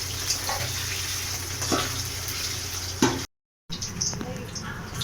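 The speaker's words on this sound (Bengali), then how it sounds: "তেল গরম হয়ে গেছে, পনিরগুলোকে হালকা করে ভেজে নেব।" Paneer pieces frying in hot oil, a steady close sizzle with occasional clinks and stirring, briefly cut out to silence before resuming.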